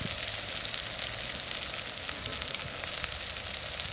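Sliced onions, chopped green chilies and cumin seeds sizzle steadily in hot oil in a pan, a bright continuous crackle with occasional pops, close by and with no talking.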